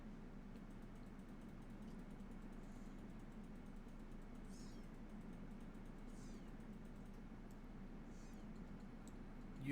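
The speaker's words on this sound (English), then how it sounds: "You may hear some squeaking in the background. That is a very small baby kitten." Faint, high squeaky mews from a tiny kitten, a few brief cries over a steady low background hum.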